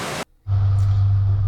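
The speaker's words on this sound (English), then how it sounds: "It does put out a fair bit of noise. But really cool to check out when it's flowing like it is today." Eurobin Falls on Mt Buffalo in full flow, a steady broadband rush of falling water that cuts out briefly after a loud opening burst, then returns strong and constant with a low hum beneath.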